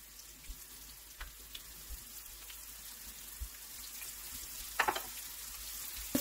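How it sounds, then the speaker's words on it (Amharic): Fish fries in hot oil for Ethiopian asa goulash, a quiet, steady sizzle with occasional faint pops and clicks, growing slightly louder toward the end, with no voices. "ዘይቱ ከጋለ በኋላ ቀስ ብለን ቀደም ያዘጋጀነው አሳውን እናረጋለን።"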